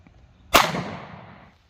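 A single sharp 9mm shot from an M&P Shield pistol firing Sig V-Crown 115-grain JHP into a gel block, a loud crack with a short decaying tail, alone.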